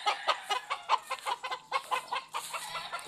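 Kelso chickens cluck close by in a rapid, uneven series of short clucks with no talk.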